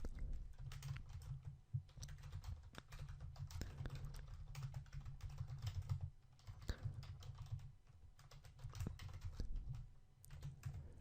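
Code comments typed for a JavaScript web project on a computer keyboard: quick, uneven bursts of key clicks, close and fairly quiet, with short pauses between runs of typing.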